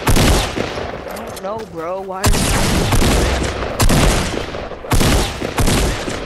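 Rapid bursts of video-game gunfire crack loudly and close in a squad shooter match, sharp repeated shots with a reload pause, while a player talks over the action.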